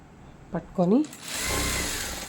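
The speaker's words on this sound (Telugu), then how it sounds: "ఇక్కడ మనం రెండు దేనికి దానికే సపరేట్ చేస్తూ స్టిచ్ చేసుకుంటాం." Sewing machine stitching the frills and lining of a three-layer dress, a steady motor whir that rises after a brief moment of speech and runs on evenly to the end.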